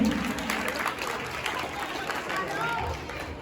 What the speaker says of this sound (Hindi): एक बार हमारी निधि बहन का जोरदार क्लैपिंग करके स्वागत किया जाए